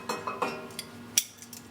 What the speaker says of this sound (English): Now we want to fish out that bacon